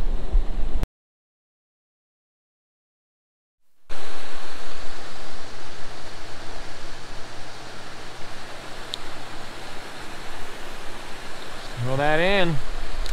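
River water rushes steadily near a dam on the Snake River, a broad continuous wash that fills the scene after a brief dropout, with a short fishing-reel or line whine near the end.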